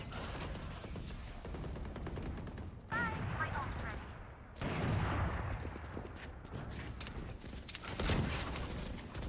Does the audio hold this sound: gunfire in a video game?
yes